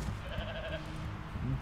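Sheep bleating in a video game, a single wavering cry held close and clear over a low, steady background drone, followed by a brief second call near the end.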